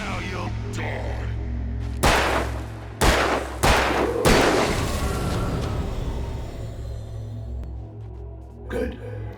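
Gunshots in the Alan Wake video game: four loud, sharp shots in quick succession, each with a ringing decay, over a low ambient drone.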